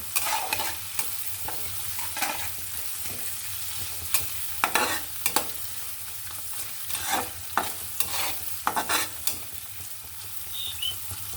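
Chopped onions sizzle in a pan for noodles, a steady frying hiss broken by repeated scraping and stirring strokes of a spatula, close and without talk.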